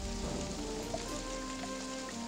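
Steady rain falls on surfaces with a constant hiss and patter, a few drops landing distinctly, accompanied by faint sustained background music tones and no speech.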